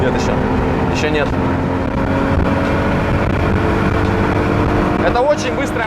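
A Nissan Skyline GT-R with its RB26DETT engine drones steadily from inside the cabin during a test drive in Yakutsk, a continuous engine tone under someone talking throughout.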